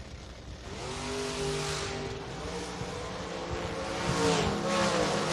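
Drag racing at a bracket race, a dragster running against an S10 pickup, with a sustained loud engine roar that swells and rises near the end, no talk.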